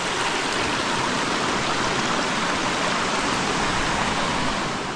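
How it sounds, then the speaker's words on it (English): Water flows in a stream beside a campsite on Stone Mountain, a steady, loud, close rushing wash that holds unbroken with no talk over it. "there's a nice water source here. It's flowing."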